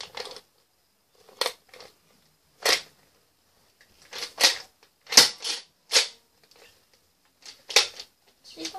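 A gun reloads and fires in the Roblox video game, sharp clicking and snapping clicks spaced irregularly with quiet gaps, crisp and close.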